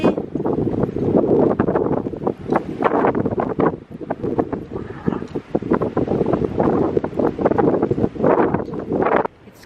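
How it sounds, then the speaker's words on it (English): Strong, steady wind buffets the microphone in loud, low gusts that roar continuously for the whole stretch, with no other clear sounds standing out. "It's crazy windy,"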